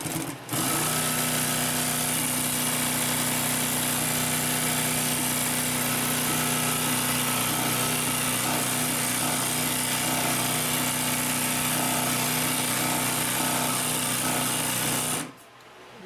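A Consew P1255RB walking-foot sewing machine stitching heavy canvas or car upholstery, a steady loud mechanical whir with a fast even stitching rhythm running unbroken for about fifteen seconds, then stopping.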